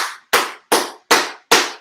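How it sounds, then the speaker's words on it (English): Five loud, crisp handclaps after a full-body workout session, spaced evenly at a slow steady pace, close and clear with no voices. "Give yourselves a round of applause."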